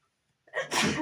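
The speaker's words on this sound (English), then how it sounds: "Oh, I feel like I'm going to sneeze." A single loud sneeze bursts out after a brief quiet moment, close and forceful with a sharp inhale leading into it.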